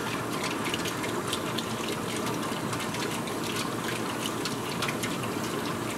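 Water drawn by vacuum filtration through a Buchner funnel in a laboratory, a steady hissing gush with fine trickling and gurgling textures, continuous and fairly close, with no voices.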